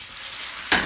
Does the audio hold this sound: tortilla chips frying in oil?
yes